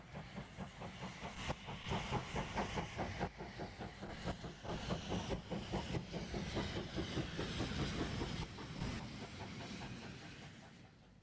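The rebuilt steam locomotive Clan Line climbs past the former Salisbury engine shed, its rapid chuffing exhaust loud and rhythmic over the clatter of the train, holding strong throughout.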